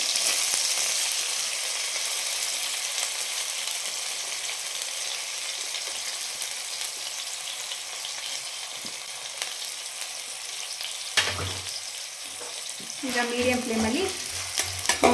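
Sliced onions with cumin fry toward golden brown in a pan for tawa pulao, giving a long even sizzle close by, then a few scraping stirs and clinks near the end.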